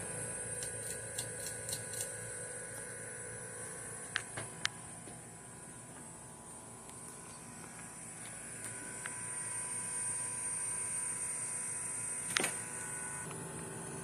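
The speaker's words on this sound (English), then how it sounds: "Alright, now I'll put it up to medium." Running on medium, a Hampton Bay Farmington ceiling fan gives a continuous airy hum with faint rhythmic ticking. A few sharper clicks and a brief rattle sound close by, and no one talks.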